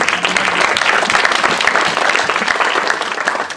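A church congregation at a Sunday service applauds loudly and steadily, a dense, sustained wash of many hands clapping from start to finish.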